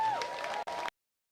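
An audience at an outdoor statue unveiling for basketball coach Dawn Staley breaks into clapping and cheering, with a sustained mix of crowd noise that stops abruptly.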